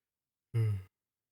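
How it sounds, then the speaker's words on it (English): A person lets out a single breathy yawn or sigh mid-conversation, brief and close, alone in otherwise quiet surroundings. "You're just yawning mid talking"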